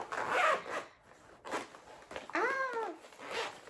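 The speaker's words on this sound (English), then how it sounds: "My paper got caught in the zipper." A zipper on a cross-stitch project bag snags on paper caught in its teeth, giving several short raspy zips in uneven bursts, close and fairly quiet, with faint vocal sounds between pulls.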